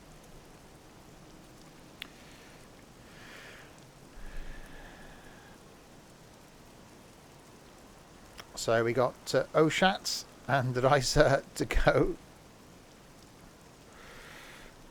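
Light rain patters softly in the background of a Train Simulator Classic Leipzig to Dresden run, a faint steady hiss beneath a person talking in short bursts partway through.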